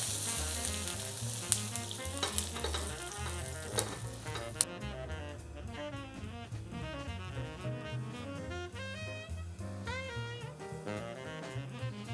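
A burger bun toasts in a hot pan, crackling with a steady sizzle throughout, while music plays underneath and a few sharp clicks land early on.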